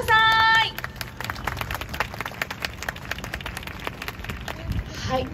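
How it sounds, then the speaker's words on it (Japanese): Audience applause and clapping fill the air at a kids' sports event talk show in Yokohama, welcoming two baseball and football guests onto the stage; the dense, steady applause carries throughout after a brief opening tone. "改めまして大きな拍手をお送りください。"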